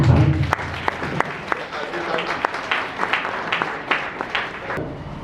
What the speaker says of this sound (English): So let me clap for you.